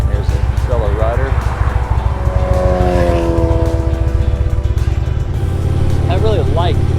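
A motorcycle passes on the road, its engine note rising and then fading in a sustained drone, with heavy wind rumble throughout and voices talking over it.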